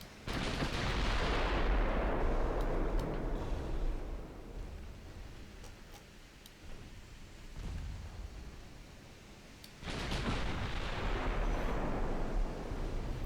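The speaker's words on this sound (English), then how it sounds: "Right, Panda, I want your main guns to focus on the battleship." Battleship main guns firing in a naval video game, two huge booming salvos several seconds apart, each with a long rumbling roar that trails off in between.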